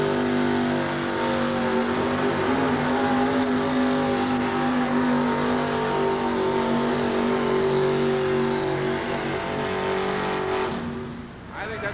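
A monster truck engine roars through a truck pull at a 1988 USHRA event in Albany, holding a loud, sustained, throaty drone for several seconds before it drops off sharply near the end.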